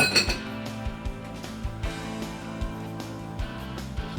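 Utensil clinking against a pot or bowl while stirring a creamy shrimp and crab spinach dip with cheese, a series of close, light metallic taps and scrapes in an irregular rhythm with no talking.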